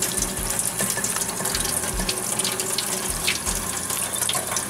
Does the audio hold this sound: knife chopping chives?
no